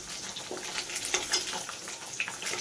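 Paneer cubes browning in oil in a pan for veg kolhapuri: a close, continuous crackling sizzle with small pops and occasional stirring scrapes.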